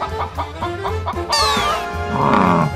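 A chicken clucks in a cartoon animal-fight scene set in a forest, a few short clucks and squawks over a busy music-like background.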